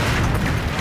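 A burning firecracker warehouse explodes in a film scene, giving a brief, loud, dense roar of blast noise that fills the whole moment without any speech.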